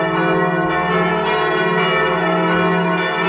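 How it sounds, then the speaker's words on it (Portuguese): Church bells ring out to announce evening mass at a cathedral, a loud, sustained clangor of overlapping bell tones with a continuous hum throughout. "Ainda fiquei na dúvida se os sinos tocariam a rebate pela nossa chegada. Afinal era anunciar a missa do final do dia."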